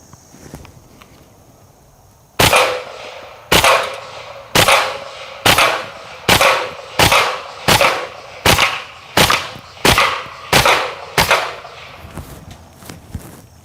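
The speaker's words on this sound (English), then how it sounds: "filled the gun up with tracer ammunition, and I'm hoping that as we shoot the keg, maybe we'll get to see some of those ricochets" A Kriss Vector fires tracer rounds at a keg outdoors: eleven loud, sharp single shots at a steady pace of about one per second, each followed by a short echoing tail, after a quiet lead-in.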